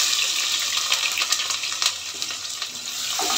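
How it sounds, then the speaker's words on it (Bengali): Chopped onions fry in a pan with cardamom, cloves and bay leaves for chicken rezala, a steady close sizzle with faint stirring clinks and no talking. "দিয়ে এটাকে ব্রাউন কালার করে ভেজে নিব।"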